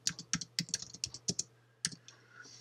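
Typing on a computer keyboard while working in Microsoft Word: a quick run of close, crisp key clicks over about a second and a half, then a pause and one last isolated keystroke, with a faint steady hum underneath.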